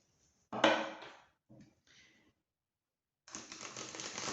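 Tarot cards being shuffled close up, a few soft riffling bursts with short gaps, then a longer continuous shuffling rustle, with no talk.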